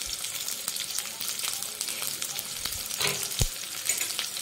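Onions frying in oil in a kadai, a steady bright sizzle with soft crackles and a few louder pops of spatter and stirring, close up with no talking.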